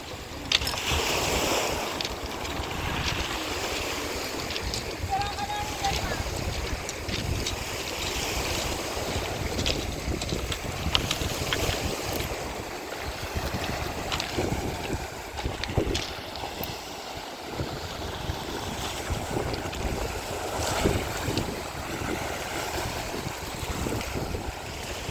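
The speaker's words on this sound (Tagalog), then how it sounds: "Tumutunog yung bato pag hinampas ng hangin, ay ng tubig." Steady wash of water surging against a rocky shore, with wind buffeting the microphone throughout; continuous and fairly loud, no voices.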